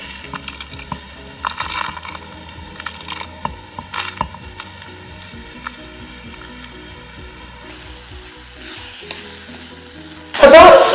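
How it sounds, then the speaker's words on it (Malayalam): Masala for a kadai prawn curry sautés in oil with a light, continuous sizzle, punctuated by clinking metal scrapes of a utensil against the pan and a louder rattling burst at the end. "എണ്ണ തെളിഞ്ഞു വരുന്ന വരെ നമ്മൾ വഴറ്റിയെടുക്കേണ്ടതാണ് കേട്ടോ"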